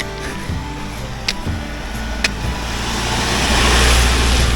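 Inside a moving vehicle, a rumbling roar grows steadily louder as a large truck approaches and passes close by, with a couple of sharp clicks early on.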